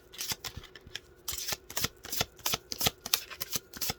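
Tarot cards are shuffled by hand close up in a quick series of riffling bursts and soft slaps, irregular but continuous throughout.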